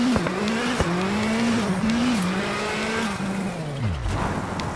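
A rally car in WRC 8 brakes hard with a loud, continuous tire squeal and skid over a steady engine drone that sweeps down near the end, close and alone, with no talk.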